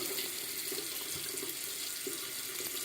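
Warm water runs steadily from a bathroom sink tap while someone splashes their face during a morning routine, a close, even hiss with faint splashes and no talk.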